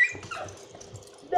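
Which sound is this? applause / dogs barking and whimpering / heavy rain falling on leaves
dogs barking and whimpering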